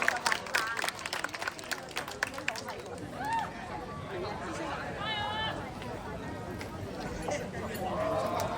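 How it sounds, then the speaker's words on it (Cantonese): Scattered clapping rises out of a noisy crowd with lively chatter at a Mid-Autumn lion dance evening event, the claps thinning out as voices carry on. "都俾啲掌聲鼓勵啊"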